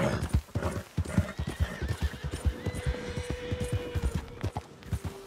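In the video game Red Dead Redemption 2, horse hooves clop in a rapid, irregular rhythm close by while a horse lets out a long, high whinny over them.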